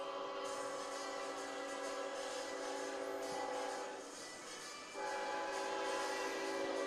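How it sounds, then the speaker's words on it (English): A passing train sounds its horn in Canoe, Alabama, near a high school football game, a steady loud blare of sustained tones over broad rumbling rail noise, briefly dipping before resuming. "There's the 8 o'clock train coming through Canoe."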